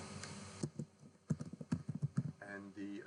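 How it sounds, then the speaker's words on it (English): Keystrokes tap out a username on a computer keyboard in a short burst of quick, close clicks, with a faint voice mixed in around them. "I'll type in the username of EX-student"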